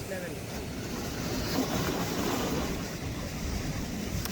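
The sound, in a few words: heavy ocean waves at beach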